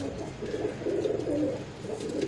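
Nyoli-breed pigeons coo in a continuous low, throaty murmur, several birds overlapping at close range with no pauses.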